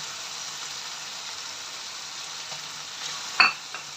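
White onion sizzles steadily as it is added to mutton frying in a pan, a continuous close hiss with a brief louder splutter and stir near the end; no talking.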